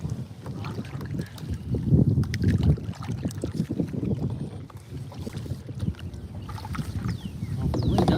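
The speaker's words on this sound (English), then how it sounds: "Keep on paddling." A kayak is paddled on open water while fishing, with soft rhythmic splashes and water washing against the hull under steady wind buffeting the microphone.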